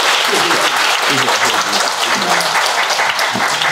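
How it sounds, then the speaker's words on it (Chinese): An audience at a lecture claps in a loud, dense, continuous round of applause, with a voice speaking faintly beneath it. "如果没有的话，我们就再次以掌声啊"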